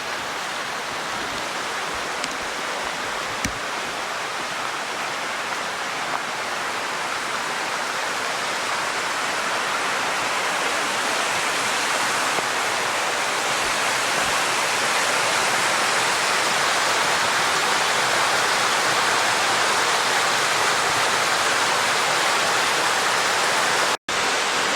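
Mill Creek Falls pours in a steady, loud broadband roar of falling water, close and unbroken throughout with no voices, ending in a brief click.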